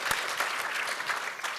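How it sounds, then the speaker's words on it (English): A student audience at a college election speaker series applauds, a short burst of steady, moderately loud clapping from a crowd, with no talk over it. "You can give yourselves a round of applause."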